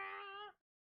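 A single cat meow from the video game Hell Boss, clear and close, with a bright harmonic cry holding steady for about half a second before cutting off into silence.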